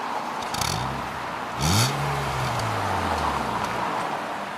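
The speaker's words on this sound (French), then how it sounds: "Donc la voiture elle démarre au quart de tour." A BMW Z3 engine cranks briefly and catches at once, then settles into a steady, fairly faint idle hum. The sound is alone, with no talking.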